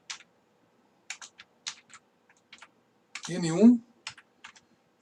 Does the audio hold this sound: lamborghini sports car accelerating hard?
no